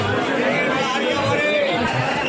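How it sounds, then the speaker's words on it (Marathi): Dense crowd chatter and babble fill a busy Dadar flower market street in the evening, a steady loud hubbub of many overlapping voices throughout. "गर्दी आहे ना खूप भरपूर आणि काही समजत नाही"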